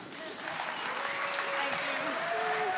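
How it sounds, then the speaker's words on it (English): Steady applause from an audience at a bar industry talk at Bar Convent Berlin, a dense wash of clapping building slightly and holding throughout, with faint voices and tonal sounds underneath. "big round of applause, please."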